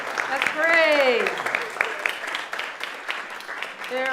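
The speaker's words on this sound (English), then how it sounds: "please stand up so we can give you a round of applause" An audience applauds at a talk, a crowd clapping in a steady wash throughout, while a voice speaks over it.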